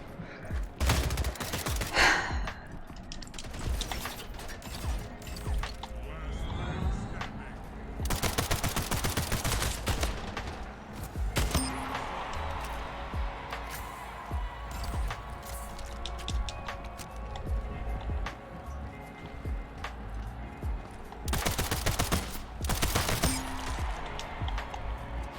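Gunfire in a video game, with dense volleys of rapid shots and bursts recurring across the stretch over continuous game noise, loud and close, with no talk.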